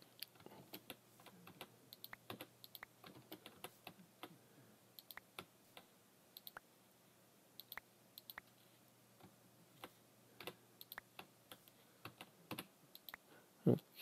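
Soft mouse clicks and key taps while playing the Minecraft mod TerraFirmaCraft, picking fruit from blocks; quiet, irregular clicks scattered across a long stretch with short bursts, close and dry, no voices.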